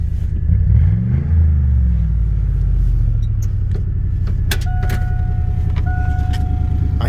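A battered Ford Crown Victoria drives along with a steady, loud engine rumble that rises briefly as it accelerates, while small thuds and rattles sound inside the cabin.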